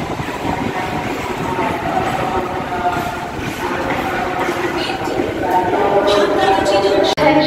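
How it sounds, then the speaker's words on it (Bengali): A Haldia–Howrah local train rolls into platform 5 at Santragachi station, its loud, steady rumble and wheel clatter filling the whole stretch, with faint voices underneath. "এখন ট্রেন সাঁতরাগাছি এসছে"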